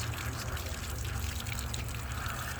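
Water trickles and splashes steadily out of a car's exhaust downpipe at the O2 sensor opening, backing up from a clogged catalytic converter, a close and continuous wet gurgle with no talk.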